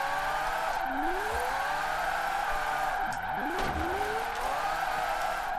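A Mazda drifting in Forza Horizon 4 holds a loud, continuous tyre squeal over a strained engine note, with the pitch sweeping up and down as the slide shifts.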